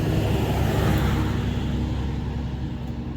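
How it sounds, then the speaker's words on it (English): A truck passing close on a roadside during an autumn evening walk, a loud steady roar that swells at the start and slowly fades as it moves away, with no talk over it. "there's no way you're gonna be able to hear me over this truck"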